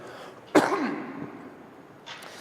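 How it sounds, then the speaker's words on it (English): A single sharp, rough throat clearing bursts out close by, then trails off into quiet room noise with a faint second rasp near the end. "I better clear my throat for this one."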